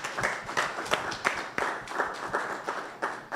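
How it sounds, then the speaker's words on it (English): Audience applause at a university event's closing: a brief burst of hand claps with distinct individual slaps pulsing irregularly, fairly close and lively, lasting a few seconds. "Clap yourselves again"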